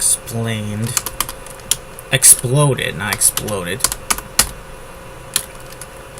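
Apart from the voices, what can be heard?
computer keyboard typing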